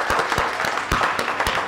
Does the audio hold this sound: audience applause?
yes